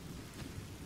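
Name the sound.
rain and thunder in a video game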